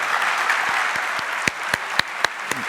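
Audience applause at an agricultural trade congress on fruit and vegetables, a steady dense patter of many hands clapping throughout with a few louder individual claps standing out near the end.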